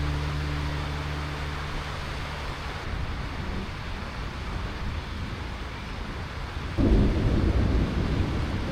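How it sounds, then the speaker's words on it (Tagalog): Thunder rumbles low and heavy through a storm during a power outage, a rolling deep rumble that swells louder near the end over a steady hiss of rain. "Grabe yung kulog."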